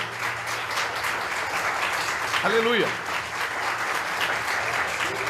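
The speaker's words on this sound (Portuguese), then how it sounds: "Você pode aplaudir Jesus pela vida do seu pastor?" A church congregation claps steadily through a worship service while a preacher's amplified voice rings out briefly over the applause midway.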